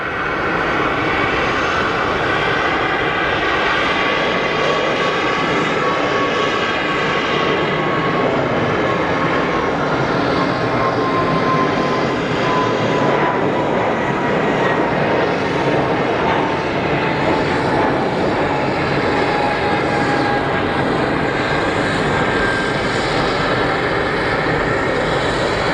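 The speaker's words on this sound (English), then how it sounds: "And the Wookiee noise, you can hear it from inside as well. It's like they made no attempt to muffle it." Swiss Airbus A220 jet engines at Geneva Airport roar steadily and loudly throughout, a dense broadband rumble with a slowly sliding high whine layered on top, and nobody talking.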